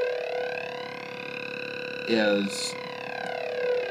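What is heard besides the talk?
Arturia MiniBrute synthesizer LFO sweeping the filter, with reverb pedal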